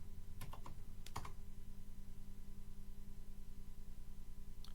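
A password being typed on a computer keyboard: a short burst of a few sharp, close key clicks near the start, then only a faint steady hum.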